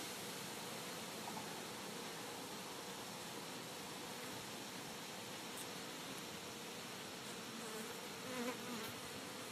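A dense, continuous buzz of many honeybees swarming over an open beehive during a frame inspection, a steady close hum filling the whole stretch with no talk.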